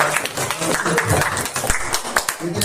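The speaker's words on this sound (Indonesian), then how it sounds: "Tepuk tangan." Audience clapping during a teaching session, a burst of dense, fairly loud applause that runs throughout without pause and continues steadily.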